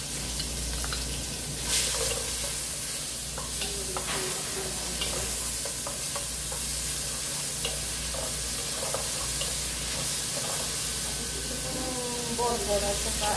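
Onion frying in oil for an Arabic jareesh dish, a steady close sizzle with occasional stirring clicks and crackles, a voice talking faintly in the background.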